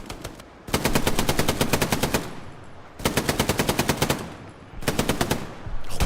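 Machine gun fire from the World War II shooter game Hell Let Loose, played on console during a competitive D-Day event: three loud, sustained bursts of rapid automatic fire, each lasting well over a second, separated by short pauses.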